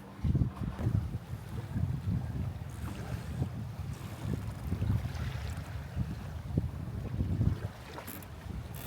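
The sailboat Yabá sails under wind with no motor running, giving a low, uneven rush of wind and water with gusty buffeting against the microphone and faint wave sloshing throughout.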